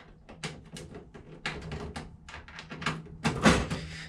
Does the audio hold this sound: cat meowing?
no